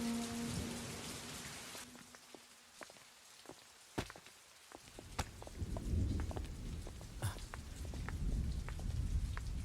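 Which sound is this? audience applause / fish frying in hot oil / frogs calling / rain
rain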